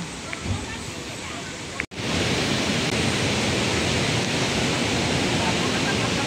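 Sea waves crash and splash onto the shore at a beach resort. A broad, steady roar of surf fills the clip after a brief dropout, with faint voices underneath.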